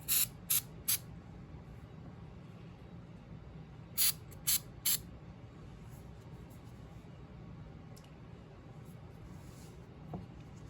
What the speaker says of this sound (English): I'm just going to put a little white lithium.